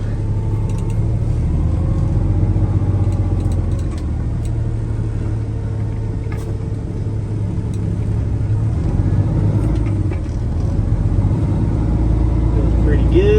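A 2008 Peterbilt 389 truck with a wet kit has its engine running, a steady, loud low rumble that holds without pause throughout.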